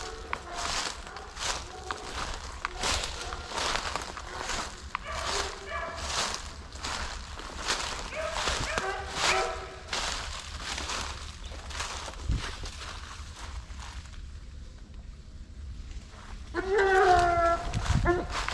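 Hunting dogs bark and whine in an excited scramble over a downed deer, with someone shouting over them throughout.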